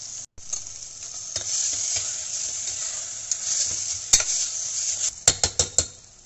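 Tomatoes and turmeric fry in a pan with a steady hissing sizzle while a spoon stirs them. A few scrapes come early, then a burst of quick metallic clinks and scrapes near the end, close and clear, with no talk.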